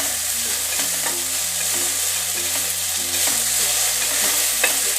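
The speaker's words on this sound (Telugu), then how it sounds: "కొత్తిమీర మాడకుండా లైట్గా వేయించుకోవాలి." Coriander stems frying lightly in a pan for a tomato coriander chutney give a continuous soft sizzle with faint stirring, close and alone.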